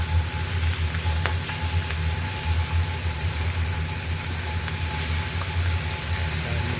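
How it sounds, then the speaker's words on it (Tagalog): Lamb chop frying in a ship's galley, a steady close sizzle running the whole time over a low engine-like hum from the vessel, with no talking. "Tapos meron tayong nilulutong lamb chop."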